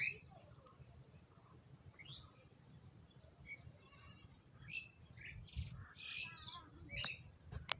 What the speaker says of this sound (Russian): Какие-то скворцы местные.